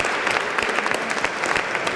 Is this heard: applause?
yes